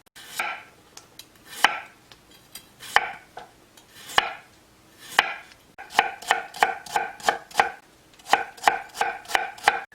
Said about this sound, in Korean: 대파는 작은 거 한 개 정도 당근은 약간만 채 썰어 주겠어요